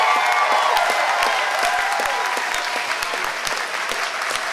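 Crowd at a fundraising gala applauding steadily, with dense clapping, occasional sharp claps standing out and scattered cheers, loud and continuous throughout.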